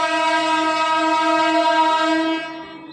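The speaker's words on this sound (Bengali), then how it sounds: "দেখো টয় ট্রেন যাচ্ছে।" The Darjeeling toy train in Kurseong sounds a loud, sustained horn for over two seconds, then the tone fades away.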